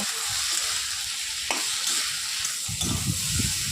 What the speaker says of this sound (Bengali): এখন আলুটা মশলার সাথে খুব ভালো করে কিন্তু কষিয়ে নেব।